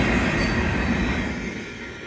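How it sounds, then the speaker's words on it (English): A Union Pacific manifest freight train, tail end of tank cars, rolls past a level crossing at Ray Road: loud, close, continuous rumble and clatter of wheels on rail, easing slightly as it goes. "a few more, several more tank cars to mark the end of the train"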